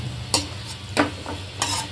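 Pav bhaji vegetables sizzle gently in a pan while a spoon scrapes through them in three distinct stirring strokes, close and moderately loud.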